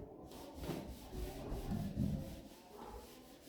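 An eraser rubbing out a drawn graph on paper gives quiet, rhythmic scrubbing strokes, close and soft, with no talk over it.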